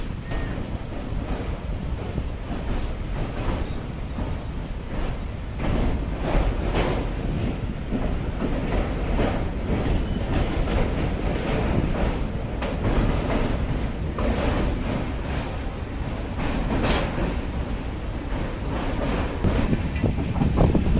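Steady rumble and rattle of the Poornagiri Janshatabdi Express running along the line toward Chandausi, heard continuously with rushing wind noise and no pauses.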